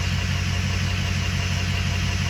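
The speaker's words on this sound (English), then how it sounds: "This is hot idle," A car engine idles hot with a steady, even low rumble and a faint mechanical ticking, close and alone.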